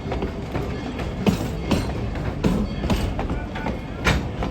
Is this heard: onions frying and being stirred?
no